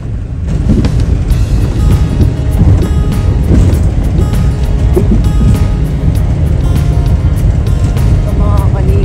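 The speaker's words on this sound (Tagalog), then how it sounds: "Sobrang lakas ng alon" Heavy surf pounding a beach at Bagac, Bataan, a dense, continuous roar of breaking waves fills the whole stretch, loud and close, with occasional voices faintly mixed in.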